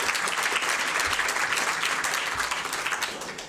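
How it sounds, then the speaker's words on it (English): An audience at an awards reception gives a steady round of applause, dense continuous clapping from a crowd at close range that fades slightly toward the end. "another round of applause"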